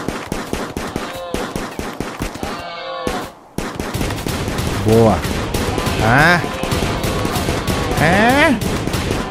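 Rapid gunfire from colonists shooting in the colony-sim video game RimWorld, repeated bursts of shots and fusillades running throughout, with someone talking briefly over them.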